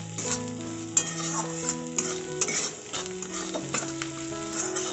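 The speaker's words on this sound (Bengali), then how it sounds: "সব মশলাগুলোকে খুব ভালোভাবে মিক্স করে আবারও কষিয়ে নেব" Spice paste with turmeric and salt frying and being stirred in a pan for a curry of hilsa fish head and potatoes, a steady close sizzle with a spoon scraping and clinking repeatedly through it, and no talk.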